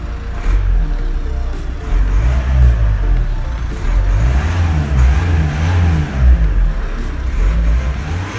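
A 2018 Nissan Qashqai with a Renault 1.5 diesel engine of 110 horsepower, revved loud and close in several rising and falling surges over a steady low rumble.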